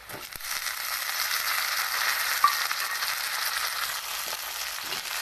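Onion and tomato frying in mustard oil in a pan, a steady, loud sizzle with occasional stirring scrapes and crackles, heard close and without talking.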